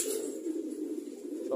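Pigeons cooing nearby in a steady, continuous low murmur, with no voices heard.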